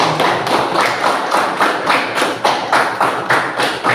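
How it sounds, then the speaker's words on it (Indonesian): Classroom applause for a student group, heard as a rhythmic series of clapping bursts repeating about every half second, loud and close with no talking over it. "Beri tepuk tangan untuk kelompok 1."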